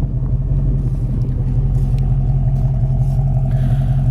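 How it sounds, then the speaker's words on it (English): A 1967 Ford Mustang coupe's older dual exhaust idles steadily throughout, a deep rumble, low and even with a slight throaty burble, close by and with no talking. "The dual exhaust is older, but it sounds good."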